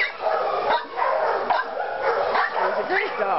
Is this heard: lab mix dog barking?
yes